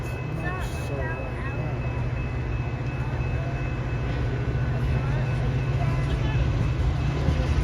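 A train rolls past at a rail crossing on Dee Road, a steady loud rumble and clatter of railcars running the whole time with a faint tonal whine above it.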